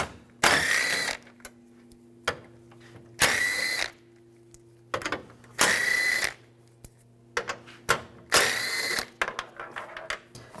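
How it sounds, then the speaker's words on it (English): A 10mm socket ratchet backs screws out of a 2007-2013 Chevrolet Silverado grille, with four bursts of close mechanical whirring separated by small clicks and quiet handling noises, no talking. "Use a 10mm socket."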